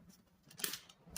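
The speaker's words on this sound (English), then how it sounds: "Three shuffles." Tarot cards being shuffled during a reading, a few quiet, close, brief riffling flicks, faint and alone.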